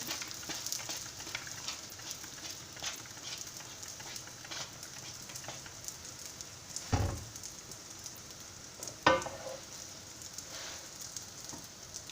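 Potato and cottage cheese gözleme fries in oil in a pan, a faint, steady crackle and patter like light rain, broken by two sharp knocks or clatters, with no voices.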